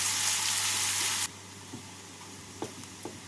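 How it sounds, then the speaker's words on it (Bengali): Two medium chopped onions dropped into hot oil for fish kochuri, giving a loud sizzling hiss for about a second that cuts off abruptly into quiet, with a few faint knocks afterward. "তেলটা গরম হয়ে গেছে, এবার এর মধ্যে আমি দিয়ে দিচ্ছি 2 মিডিয়াম সাইজের কুচনো পেঁয়াজ।"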